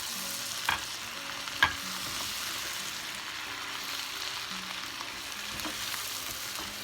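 Chopped tomatoes and tomato paste simmering in a pan for a chicken sauce, a soft, steady bubbling sizzle with a couple of brief clinks of a utensil against the pan.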